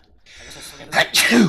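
A sneeze bursts out during a tabletop Dungeons & Dragons game session, a sharp close exhalation that cuts across players talking.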